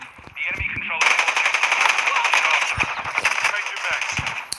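Rapid automatic gunfire in the mobile shooter game Call of Duty: Warzone Mobile, dense bursts rattling loud and close for several seconds, with voices talking over it.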